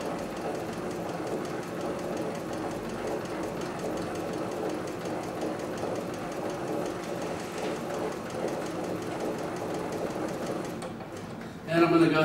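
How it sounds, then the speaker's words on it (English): A CB6900 leather sewing machine stitches at very low speed, a steady, close mechanical hum and rapid rhythmic clatter that runs on evenly and ends with a short louder burst. "So I'm just going to start sewing here"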